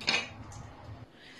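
Dry lentils pour into a cooking pot for a stew with pork ribs and chorizo, a brief close rattling clatter at the start that fades into a lighter patter against the pot.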